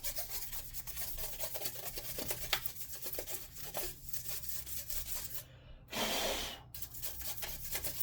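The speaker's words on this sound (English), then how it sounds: "use a toothbrush, loosen up the dust" A toothbrush scrubs dust off the bottom cover of a Lenovo Legion Pro 7 laptop, giving close, steady bristle rubbing and rasping strokes with a brief pause partway through.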